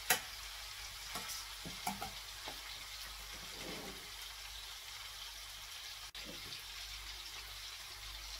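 Chicken karahi with spices frying in a wok, a steady low sizzle with a few sharp clinks of stirring near the start and one brief knock later, no voices.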